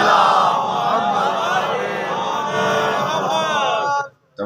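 A large crowd at a religious gathering in Gujranwala loudly recites salawat in unison. The sustained, swelling chant of many voices runs for about four seconds before cutting off abruptly.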